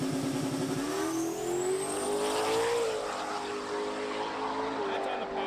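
A drag race car launching off the trans brake on a pass, its engine roaring loud and steady, pitch climbing through a gear change, with a person talking over it.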